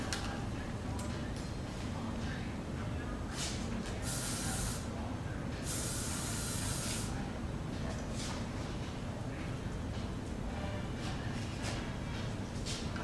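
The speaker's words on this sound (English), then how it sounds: "using the spray, just pulling it out a little bit, just making it a little bigger" Aerosol hairspray sprays onto a woman's hair while it is teased up for front volume: two distinct one-second bursts stand out amid shorter faint hisses, close by, with a person talking throughout.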